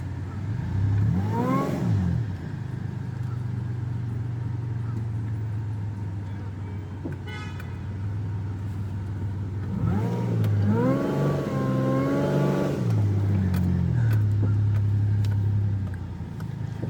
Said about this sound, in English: Sometimes that supercharger whine works better than the horn does.